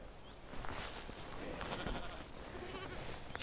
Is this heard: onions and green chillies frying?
no